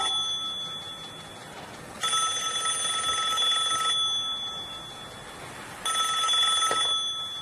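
An electronic telephone ring trills in two bursts with a quiet pause between them, sounding clear and close against a faint room background, with no one speaking.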